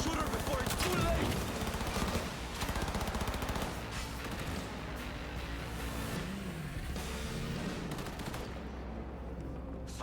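Rapid gunfire from the Cyberpunk video game, dense bursts of shots crackling continuously over a busy low rumble of combat for the whole stretch, fairly loud and close.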